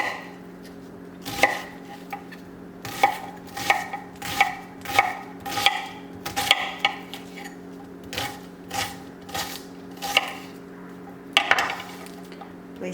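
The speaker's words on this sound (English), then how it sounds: "So we chop onion." An onion chopped with a knife on a cutting board, with about fifteen sharp, close knocks coming in an uneven rhythm over a low steady kitchen hum.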